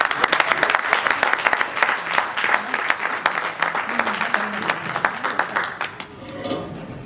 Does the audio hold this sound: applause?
yes